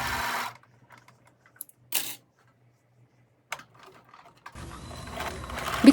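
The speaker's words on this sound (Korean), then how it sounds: "밑단은 아까 오버록 스티치 했던 그 부분을 한 번 접어서 다림질을 해서 오버록 스티치한 그 선을 따라서 박음질을 해 주었습니다" A sewing machine straight-stitching the folded, pressed hem of a dolman-sleeve hooded cardigan along an overlocked edge, heard as short mechanical bursts separated by silence, then a longer continuous run that grows louder at the end.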